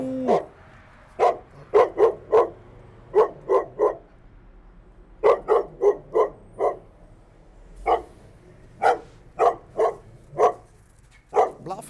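Dog barking close by in groups of two to four sharp barks, repeated in bursts with brief pauses between them, with no talking over it.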